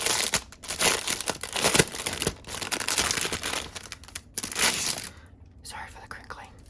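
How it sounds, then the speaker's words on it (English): Plastic packaging from a stationery order crinkles loudly and continuously up close, with crisp rustles and crunches, then fades near the end. "Sorry for the crinkling."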